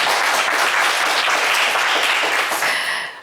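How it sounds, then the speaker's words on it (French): Loud, dense applause from a TV game show studio audience, steady throughout and tapering slightly at the very end. "Allez, Guy Serge, on vous applaudit quand même très fort."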